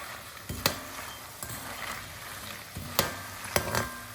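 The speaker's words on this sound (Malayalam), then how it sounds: "തീ ഒരു മീഡിയം ഫ്ലെയിമിലേക്ക് മാറ്റിയിട്ട് ചെറുതെ കിടന്നത് വറുത്തെടുക്കണം" Banana pieces fry in oil in a pan over a medium flame with a soft steady sizzle. A few sharp clinks and scrapes from stirring break through at irregular moments, and no voices are heard.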